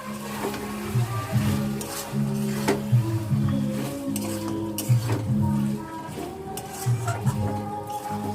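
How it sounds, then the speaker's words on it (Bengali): Chicken pieces cooked down slowly in a pan for a spicy curry, with steady stirring and scraping over a low simmering sizzle, a rhythmic pattern of spoon strokes against the pan, close up, with a voice talking faintly in places. "আস্তে আস্তে কষাতে হবে।"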